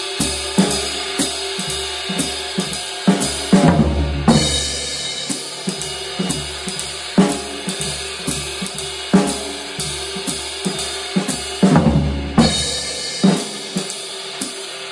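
Full drum kit playing a groove with four-stroke single-stroke ruff fills landing on accented band hits, punchy kicks and crashes recurring in a steady repeating pattern, loud and close with no talking.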